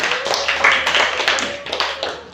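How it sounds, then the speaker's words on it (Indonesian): Primary school pupils in a classroom at SD 21 Binduriang clap for a student group in steady, dense applause that lasts throughout, fairly close, with a few voices mixed in. "beri tepuk tangan untuk kelompok Fatimah"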